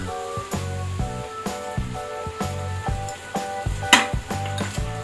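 Soaked flattened rice (chire) is tipped into a hot pan and sizzles as it is stirred, with soft repeated scraping strokes and bursts of frying that come and go over a quiet background.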